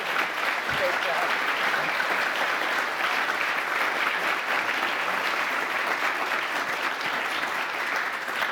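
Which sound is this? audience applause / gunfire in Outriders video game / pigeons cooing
audience applause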